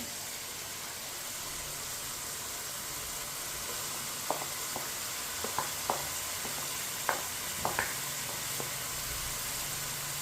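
Ground raw spinach being stirred into masoor dal over a high flame: a constant frying hiss with scattered light scrapes and clinks of a spoon against the pan, close and steady.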